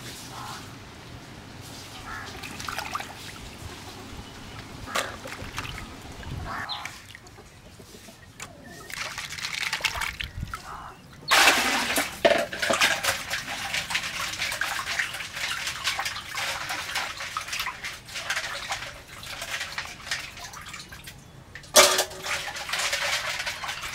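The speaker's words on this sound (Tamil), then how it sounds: "இந்த மாதிரி நல்லா நண்டு சுத்தமாக கழுவி எடுத்துக்கணும்" Crabs are washed by hand in water for crab curry, with splashing and sloshing that grows louder midway, and occasional voices and clucking chickens in the background.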